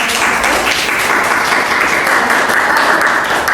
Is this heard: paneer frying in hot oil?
no